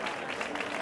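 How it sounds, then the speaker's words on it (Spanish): Brief applause from spectators at the trophy ceremony of a charity popular footrace, dense and steady clapping at moderate distance. "El aplauso para Ainhoa"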